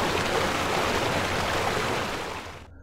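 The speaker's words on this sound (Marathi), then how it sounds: "नदीचा धोधो आवाज येत होता." A river rushes at night as a loud, steady broadband roar of water that holds evenly, then fades away near the end.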